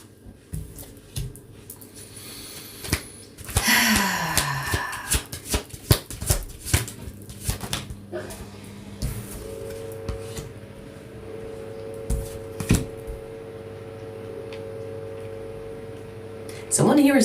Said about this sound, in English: I'm shuffling backwards.